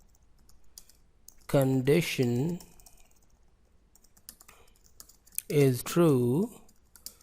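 Typing on a computer keyboard while coding JavaScript, a light run of soft, quick key clicks heard faintly underneath two separate bursts of someone talking.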